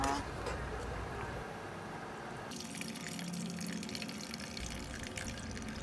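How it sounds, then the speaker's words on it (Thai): Mama instant noodles are blanched in hot water, with quiet close splashing and trickling of liquid that changes character midway, as if the water is stirred or poured. "เรามาลวกเส้นมาม่าก่อนนะคะ"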